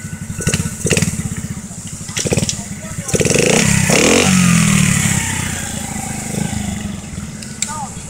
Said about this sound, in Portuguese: Escapamento.